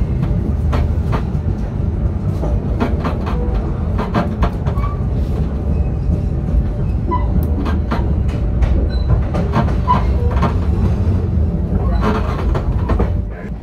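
KA Serayu passenger train running on rails, a steady loud rumble with scattered clicks and rattles of the carriage throughout, heard from inside.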